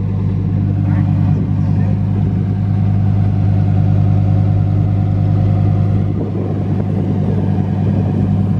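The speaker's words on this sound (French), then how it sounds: "Donc c'est la toute nouvelle Huracan, version vraiment la plus ultime. Elle fait un bruit déjà de fou." Lamborghini Huracan STO, its engine running with a steady, loud, deep rumble close by that swells and eases slightly, with a brief dip near the end and no clear talk over it.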